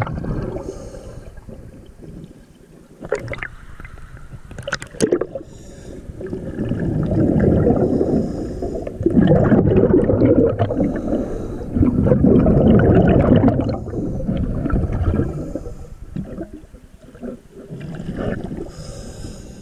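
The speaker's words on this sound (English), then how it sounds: "Pontoon boat." Pontoon boat cruising on Governor's Creek in January, a steady low motor drone and water wash building from soft to loud and holding, with a few sharp knocks early on.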